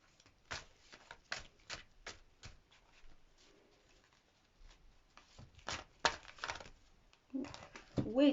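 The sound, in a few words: shuffling tarot cards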